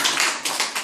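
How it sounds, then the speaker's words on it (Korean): An audience claps together at a Korean seminar, a short burst of a few quick overlapping claps close by, with no talk. "안 드신 분들이 박수 한번 쳐줘요"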